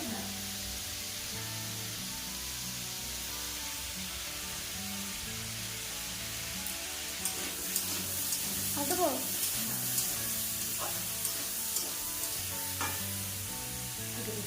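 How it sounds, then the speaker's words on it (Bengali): Dal is poured into a hot tempering of red chilies, garlic, onion and five-spice in oil, giving a loud steady sizzle that swells with a few clinks of stirring. "ফোড়নটা লাল লাল হয়ে এসেছে এবার ডালটা ঢেলে দেবো"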